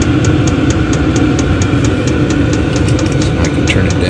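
A diesel heater runs inside a hot tent at a camp, giving a steady, close engine-like hum with faint regular ticking on top, constant throughout and without speech.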